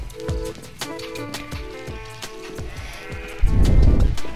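Sheep bleat in repeated short, nasal calls over a busy musical background, with a louder low rumble of movement near the end.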